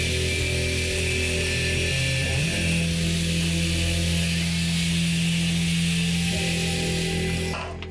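A band saw runs against a hardened 5160 steel chopper handle with a loud, steady droning whine and hum that holds throughout and cuts off at the very end.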